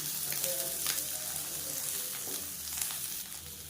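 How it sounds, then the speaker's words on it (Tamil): Betel leaves sautéing in a pan for a betel leaf thogayal give a continuous, even sizzle with soft crackles and occasional stirring scrapes. The frying is close and steady throughout, with no talking. "இதையும் சேர்த்து அந்த வெத்தலை சுருங்குற அளவுக்கு வதங்கிட்டேன்"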